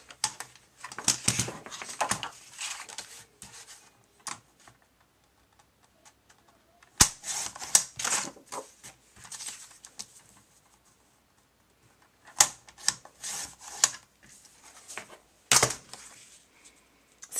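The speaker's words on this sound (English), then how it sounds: "I'm just going to trim this down so there's a little bit of an edge on each side." Paper for a Christmas card is trimmed with a cutter, giving bursts of crisp slicing and clicking with sharp snaps between stretches of quiet. The sounds come in separate clusters rather than a steady rhythm. Nobody speaks.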